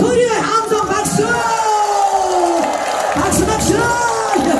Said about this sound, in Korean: 대박 나시라고 소리를 함성 박수